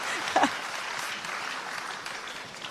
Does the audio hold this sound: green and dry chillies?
no